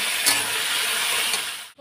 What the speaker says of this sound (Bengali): আর এদিকে আলুটা তো ভাজা হচ্ছে